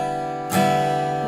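Downward pick strum on a guitar, a single bright strum cutting through a ringing chord and sustaining close by, followed by a faint second touch near the end.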